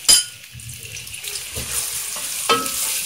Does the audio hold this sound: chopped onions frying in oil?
yes